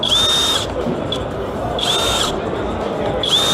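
SKIL power tool running at a trade show, repeated short whining bursts of a motor spinning up, close and loud over steady crowd noise and voices.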